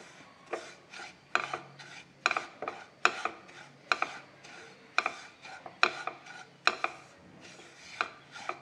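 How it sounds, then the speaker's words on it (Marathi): Semolina (rava) being stirred while dry-roasting in a pan: close, rhythmic scraping strokes roughly every half second to second, each a short gritty rasp, continuing steadily with no voices. "कंटिन्यू हलवत भाजायचा, म्हणजे एकसारखा भाजला जातो, फुलतो व्यवस्थित"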